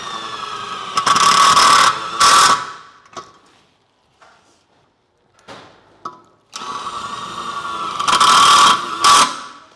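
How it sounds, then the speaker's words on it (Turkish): A screwdriver drives trapezoid screws into metal, giving two loud bursts of whirring and ratcheting with metallic clanks, separated by a quieter stretch of faint handling noise. "Daha önce vida atılmamış bir yeri şöyle belirledim ve vida atıyorum."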